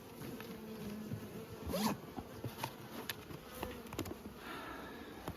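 Honey bees buzz steadily around an open hive in an outdoor apiary at Nymboida, a continuous close insect drone with brief louder passes near the middle and a short spoken word.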